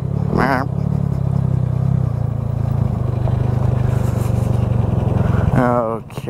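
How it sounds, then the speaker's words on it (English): A moped being ridden hard over rough ground, with its small engine droning steadily and loudly close by, a higher whine at the start and end, and voices shouting over it. "Look at Sam charging it on the freaking mope."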